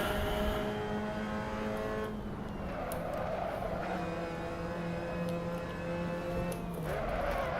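Race car engines in MX5 Cup racing at the Red Bull Ring, several cars droning close together with rising and falling whining pitch as they shift and pass, steady and loud throughout.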